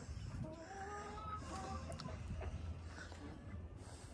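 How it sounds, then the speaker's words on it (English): Guinea fowl and chickens cluck and call in a farmyard, with a scatter of soft, overlapping clucks and short cries over a steady low background hum, at moderate distance, with no talk. "These guineas decided they were going to go"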